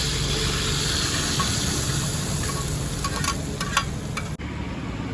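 Fried coconut pieces and curry leaves hit a pan of beef curry, giving a steady loud sizzle and hiss throughout, with a few clinks of stirring near the end.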